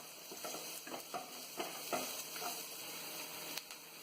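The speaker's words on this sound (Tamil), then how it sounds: "நறுக்கி வச்சிருக்கிற வெங்காயத்தை ஆட் பண்ணி நல்லா ஃப்ரை பண்ணிக்கலாம்." Cashews and chopped onion fry in a pan for a restaurant-style dragon cauliflower dish, a soft steady sizzle with quiet spoon stirs and scrapes every half second or so.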